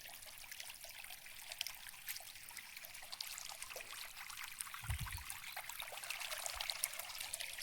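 Irrigation water runs from a hose into a wheat field, a faint, continuous trickle and gurgle with one brief low splash midway, heard alone.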